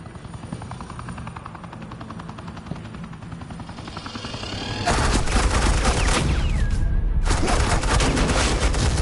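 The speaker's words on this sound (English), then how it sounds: "Suppressing fire." Sustained suppressing gunfire in Batman: The Enemy Within, a loud dense burst of shots that kicks in midway over a steady rumbling drone and continues to the end.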